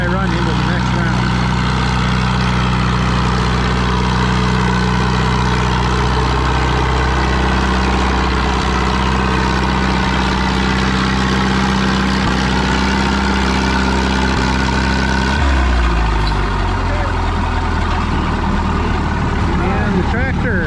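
A heavy pulling tractor engine roars steadily at a constant pitch during a tractor pull run, then its tone shifts abruptly near the end as the load changes, with voices faintly underneath.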